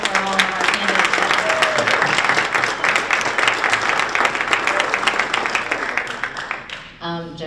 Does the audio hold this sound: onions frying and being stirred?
no